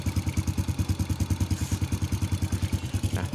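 A motorcycle engine idles with a leaking exhaust, a steady rapid thumping pulse with a light ticking chuff riding on each beat, close up and fairly loud with no voices.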